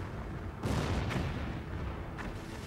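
Heavy artillery fire in a battlefield setting: a loud, deep rumbling barrage with booming blasts swelling around the one-second mark and again near the end, forming a continuous roar.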